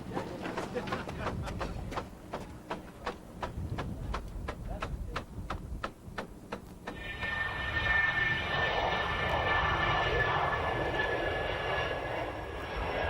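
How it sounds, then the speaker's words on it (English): A small light aircraft's engine drones steadily, first under a rhythmic pulsing beat, then rising into a loud, close, broadband roar as the plane arrives. "arrives in his plane after a short flight from his home in Clearwater"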